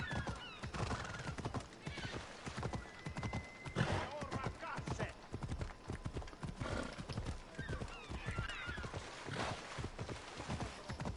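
Horse neighing and clip-clopping hooves in the Assassin's Creed Odyssey video game, whinnies rising over steady hoofbeats while someone talks over the action throughout.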